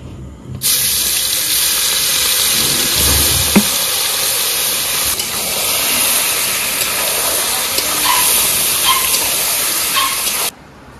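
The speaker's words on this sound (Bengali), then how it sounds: "তেলটা খুব হিট হয়ে গেছে, এখন দিয়ে দেবো আমরা ম্যারিনেশন করা চিকেন" Marinated chicken dropped into very hot mustard oil, a loud, steady, close sizzle that starts abruptly and holds for about ten seconds before cutting off, with no voices.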